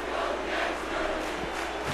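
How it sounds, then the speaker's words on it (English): A crowd at an MPWF Summer Slam 2011 wrestling show chants for wrestler Antonio Gorman, and the dense, sustained roar of many voices fills the hall at a steady, loud level. "the crowd here now is starting to chant for Antonio Gorman"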